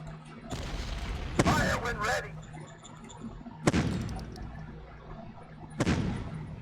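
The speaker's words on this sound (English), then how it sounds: "Do a range attack. Fire when ready." Ranged-attack gunfire in the strategy game Shadow Empire, heard as three sharp bursts spaced a couple of seconds apart, each with a booming report and a fading tail, over quiet background noise.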